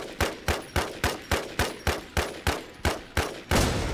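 An IMI TAR-21 assault rifle fires in the video game Infestation, with twelve loud, evenly spaced shots in steady semi-automatic rhythm, ending in a longer sustained burst of noise.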